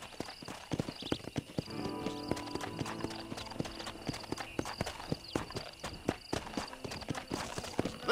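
A horse in the video game Red Dead Redemption sets off at a gallop, its hooves clip-clopping in a quick, uneven rhythm close up, with a brief whinny early on and no talk over it.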